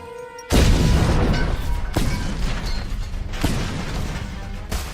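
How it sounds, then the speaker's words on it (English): Loud, deep booms from grenades bursting at a military harbor base in Just Cause 2, several heavy blasts in quick succession with rumbling, crackling debris between them. "Some grenades while parachuting should do the trick."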